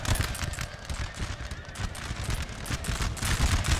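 Musket volleys crackle without pause across a Napoleonic battlefield in Napoleon Total War, a dense, rapid spatter of shots at middle distance over a rumbling din.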